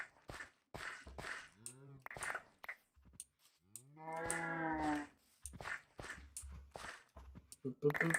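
Cows in Minecraft moo twice, drawn-out and lowing, between quick clicky footsteps and blocky game sounds at moderate volume.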